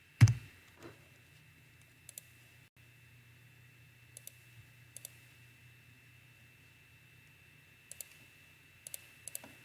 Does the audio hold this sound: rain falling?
no